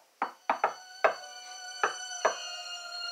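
Series of five or six distinct knocks on a door with a hollow, resonant ring, spaced unevenly over a few seconds, fairly close and alone without talking.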